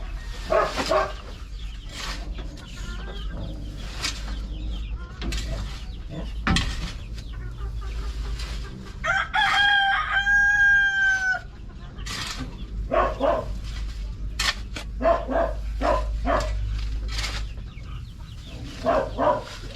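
Chickens cluck and call repeatedly close by in a chicken coop, with a drawn-out rooster-like crow in the middle over a low steady rumble.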